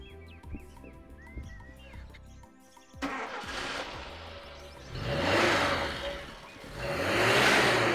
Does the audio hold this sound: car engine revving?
yes